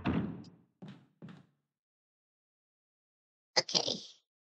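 A broken door in Resident Evil Remake is worked open with a few short, hollow knocking thuds in quick succession, then a pause and a final sharper clunk, all fairly quiet against silence.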